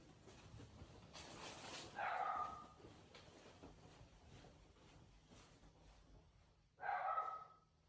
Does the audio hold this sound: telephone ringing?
no